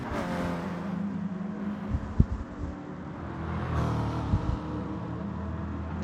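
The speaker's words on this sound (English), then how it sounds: "Sounds like a real race car." Onboard sound of a GT touring race car at speed, a steady loud engine drone and rumble with a couple of sharp bangs and clattering knocks over it.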